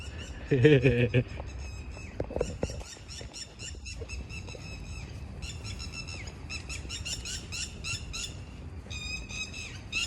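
Many birds call in rapid, high-pitched repeating trills and chirps, overlapping steadily, with a brief louder squealing call near the start; no talking.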